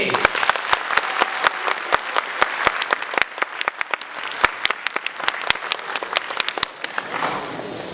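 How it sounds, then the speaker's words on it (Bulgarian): Steady, close applause with crisp individual claps comes from an audience after a song by a children's vocal theatre group, continuing for several seconds. "Аплодисменти!"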